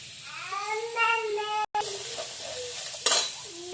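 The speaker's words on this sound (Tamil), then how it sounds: "எல்லாத்தையும் போட்டு நல்லா ஒரு வதக்க வைக்கணும்." Ingredients with curry leaves sautéing in a pan hiss and sizzle as they are stirred, with a short scrape of utensil on metal, a brief cut-out, and a voice speaking over parts of it.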